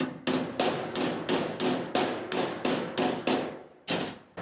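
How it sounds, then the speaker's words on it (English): Sheet metal on a rat rod truck is hand-shaped with a hammer, about a dozen evenly spaced, ringing metallic blows in a steady rhythm, close and clear with no talking. "I can pretty much sit there and hammer that until it's absolutely perfect"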